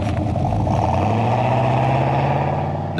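A V8 petrol engine's exhaust thrums in a deep, steady burble that builds slightly in tone, close and continuous with no voices over it.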